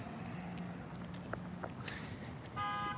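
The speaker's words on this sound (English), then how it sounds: "They're honking" Car horns toot at a street intersection where an SUV and trucks are pulling out. Brief, faint honks come over soft traffic noise, then one louder, sustained honk closes the moment.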